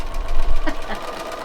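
A Bernina sewing machine stitches polyester thread while curtains are made, giving a close, loud, steady mechanical whir with a rapid pulsing rhythm over a brief stretch.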